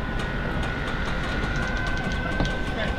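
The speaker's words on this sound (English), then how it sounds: "This train is very unique." A hospital train in Ukraine rolling along the rails, a continuous heavy rumble with faint rhythmic clicks of the wheels and a steady high whine running through it.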